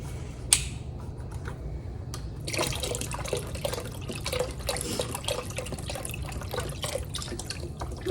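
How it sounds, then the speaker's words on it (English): Chicken broth pouring from a box into a soup pot with crushed tomatoes, a continuous soft liquid gurgle and splash lasting several seconds after a brief knock, fairly close and without talk. "Box of chicken broth."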